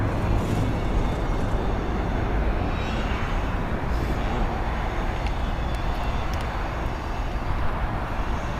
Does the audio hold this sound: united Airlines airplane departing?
yes